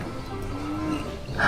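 A cow gives a low, drawn-out moo on a farm, moderately close, with a brighter noisy burst at the end and no talking.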